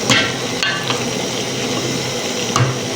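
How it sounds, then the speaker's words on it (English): A lentil stew with cabbage being stirred in a pot, a soft bubbling sizzle with a few sharp knocks and scrapes of the spoon against the pot, close and brief with no talking. "We're gonna give it a good mix."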